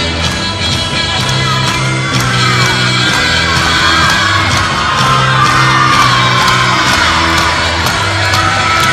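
A loud arena crowd at a college gymnastics floor routine, Utah at Arizona, whoops, yells and cheers continuously over pounding floor-exercise music, energetic and sustained throughout.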